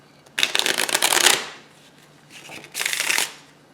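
Two bursts of playing cards being riffle-shuffled, a dense rapid flutter each lasting about a second, close by with a short pause between them.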